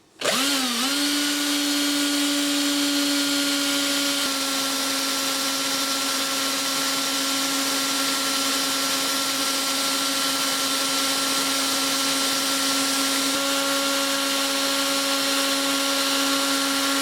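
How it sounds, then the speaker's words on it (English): A power drill fitted with a buffing wheel runs steadily for the whole stretch, polishing brass door furniture with metal polish; a loud, continuous whine that starts abruptly and holds an even pitch with no talk over it. "then we're going to buff it off using the buffer in the drill"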